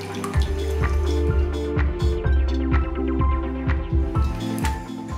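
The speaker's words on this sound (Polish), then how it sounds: "Jajka rozmieszam." Eggs are beaten in a bowl for a spinach cake, making rhythmic wet squelching strokes that repeat at a steady, brisk pace close by, with no talking.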